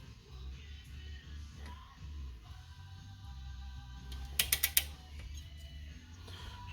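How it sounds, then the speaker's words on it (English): A socket wrench torques head bolts on a flathead Briggs and Stratton engine fitted to a tiller, giving a quiet, close run of ratchet clicks and creaks with a short burst of sharp metallic clacks near the end, no talk. "I'm going to torque each one of them down to"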